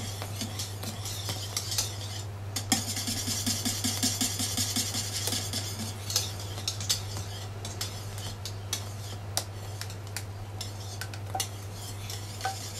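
A hot chestnut flan preparation is stirred into an egg mixture in a bowl, giving a steady scraping and clinking of a utensil against the bowl throughout, with a low constant hum underneath and no voices.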